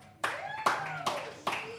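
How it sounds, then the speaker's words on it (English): Four slow, deliberate hand claps ring out one by one at evenly spaced intervals, crisp and close, with a faint voice murmuring underneath. "That was a sarcastic clap the second time"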